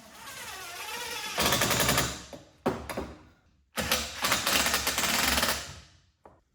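Power drill driving 1.5 inch screws into nightstand wood, several loud buzzing bursts of a few seconds each separated by short pauses, ending with a brief click.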